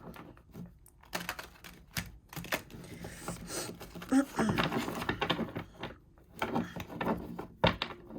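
Tarot cards riffle and slap softly in short bursts, interspersed with quiet taps and shuffling noises, close by and fairly faint.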